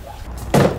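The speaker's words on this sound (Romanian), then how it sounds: "Deschidem ușa." A car door opens with a single short, loud thunk about halfway through, preceded by quiet background sound.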